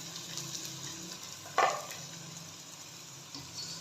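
Chicken handi with onion and garlic cooks under a lid over normal heat, giving a steady soft sizzle and hiss with one brief louder clink or stir partway through and a faint knock near the end.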